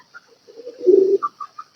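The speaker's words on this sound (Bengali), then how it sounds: "এই যে আমার হাতেও এক পিস কবুতর আছে, একটা নর কবুতর" A male pigeon gives a short, soft, low coo close by, a single throaty rolling note followed by a few faint higher chirps in otherwise quiet surroundings.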